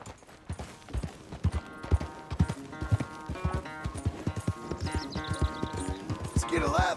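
Horse hooves clip-clop at a steady walking rhythm in the video game Red Dead Redemption 2, close and distinct, with a whinny toward the end and background music underneath.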